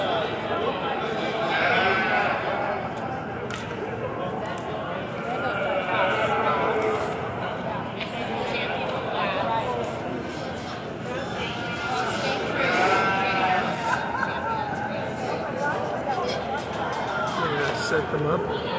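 Several sheep bleat repeatedly at an agricultural sheep show, their calls rising and falling over a busy arena murmur, with people talking nearby throughout.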